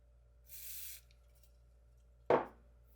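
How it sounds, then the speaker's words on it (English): A short hiss of contact cleaner sprayed from an aerosol can, about half a second long, followed by a sharp scraping clack in an otherwise quiet room, while splicing Philips Hue LED strip lights. "We're going to spray a little contact cleaner."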